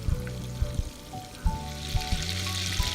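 Cumin seeds splutter in hot oil in a pan, scattered sharp pops and crackles over a low sizzle, close and fairly quiet, the bursts coming irregularly for a few seconds with no talking.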